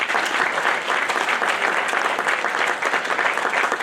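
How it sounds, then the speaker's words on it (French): A church congregation applauds the ladies at a francophone anniversary service in Gretna, Louisiana, with dense, steady clapping sustained at full strength throughout. "Mettez-nous ensemble pour applaudir mesdames."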